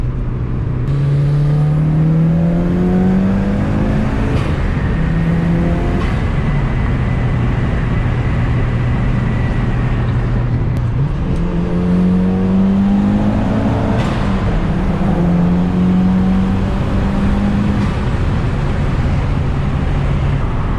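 A Mitsubishi Evo 8 cruising along, its engine droning steadily from inside the cabin with rising and falling whine as it shifts through gears, loud and constant with no talking.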